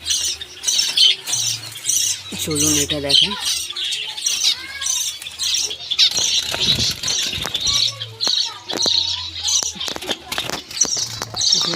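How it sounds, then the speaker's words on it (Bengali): Finches in a breeding cage squawk and chirp in dense, repeated bursts close by, with someone talking over the calls and brief fluttering between them. "আরও দুটো পাখি দুজোড়া পাখি এক জায়গায় আছে সেগুলো এটাও দেখাই আপনাদেরকে"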